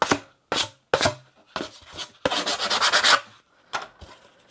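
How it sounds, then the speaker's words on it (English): Quick hand sanding of a plywood sheet: a series of short, close scratchy strokes in uneven bursts, with a longer sustained rub near the middle and a few brief strokes trailing off. "So just a quick sand, that's it."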